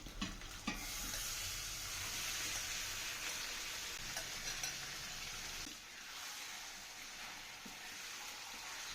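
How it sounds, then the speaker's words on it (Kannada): Marinated chicken with browned onions frying in a pan, a soft continuous sizzle and hiss with occasional stirring scrapes, quiet and steady without talk. "ಈರುಳ್ಳಿ ಕೆಂಪಗಾದ ಮೇಲೆ 1 ಅವರ್ ಮ್ಯಾರಿನೇಟ್ ಮಾಡ್ಕೊಂಡಿದ್ದಂತಹ ಚಿಕನನ್ನು ನಾನಿಲ್ಲಿ ಹಾಕ್ಕೊಳ್ತಾ ಇದ್ದೀನಿ"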